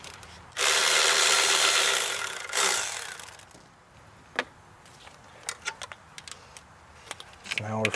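A 13 mm socket wrench on a bolt in a Dodge Journey engine bay makes a loud, fast ratcheting whir for about two seconds, followed by scattered clicks and metallic taps of tool handling.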